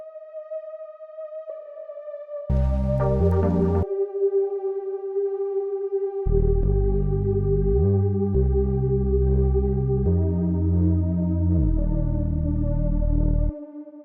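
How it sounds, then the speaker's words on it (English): An ambient synth lead with reverb and delay holds a sustained, wavering tone, while deep stacked chord swells enter and shift beneath it, loud and continuous. "So the next thing that we have here is this little ambient lead"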